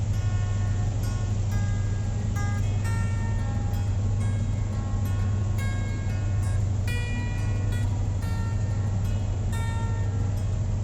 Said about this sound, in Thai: สำหรับแนวทางรถไฟที่วิ่งอยู่นี้ คือแนวทางรถไฟที่ถูกวางขึ้นใหม่ จากโครงการรถไฟทางคู่